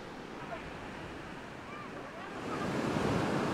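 High ocean waves break on a Bali beach in a continuous rushing roar mixed with wind noise, swelling louder toward the end, with a faint voice underneath.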